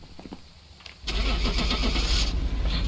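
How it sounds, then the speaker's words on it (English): A truck engine in the Phasmophobia video game cranks and catches after about a second of quiet, then settles into a loud, steady idle that fills the rest of the clip. "I'm gonna start the truck."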